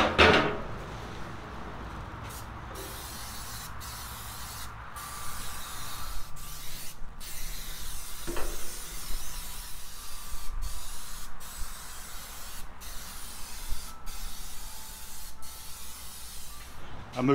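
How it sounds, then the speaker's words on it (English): Aerosol spray hisses onto the cooking grates of a Lonestar Grillz offset smoker during seasoning, in repeated bursts of varying length separated by short gaps, fairly close and steady. "I'm going to go ahead and get the both the cooking grates sprayed in good as well."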